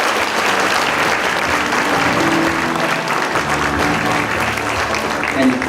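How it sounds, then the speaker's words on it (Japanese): Audience applause at the 2017 WPC award ceremony, dense continuous clapping from a large crowd filling the whole span, with talk faintly underneath. "拍手をお願いいたします。"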